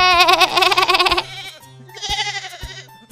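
A sheep gives two wavering bleats, the first longer and louder, the second shorter after a brief pause. The calls are close and clear, and a voice may be imitating the animal.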